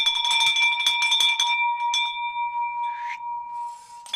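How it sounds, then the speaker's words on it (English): A bell rung in an office celebrating a closed wholesale real estate deal: one bright ringing strike with a long sustained tone, followed by faint clatter and rustling. "Drop that bell."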